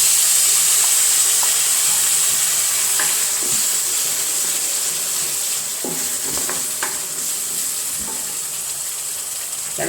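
Boiled and cooled water poured into a hot pan of ground spice paste for bitter gourd theeyal, a steady close hiss and sizzle with faint clinks over a constant wash of sound.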